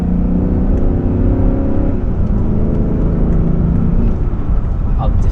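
A 2003 Range Rover L322 accelerates from 30 to 50, giving a steady loud engine and road drone from inside the cabin with a gradual rise, with no speech over it.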